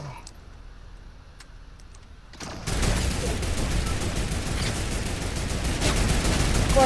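Fortnite turret fire erupts after a quieter stretch with a few faint clicks: sustained, rapid automatic gunfire, loud and steady through the rest of the moment.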